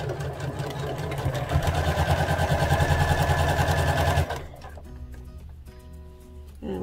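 A sewing machine stitching a skirt seam, a fast steady rattling whir for about four seconds before stopping, followed by quieter handling noises; a voice is heard faintly.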